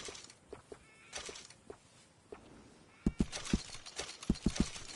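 Horse hooves clip-clop in the video game Red Dead Redemption 2, scattered soft steps at first, then a sharper, louder run of close hoof strikes in the second half.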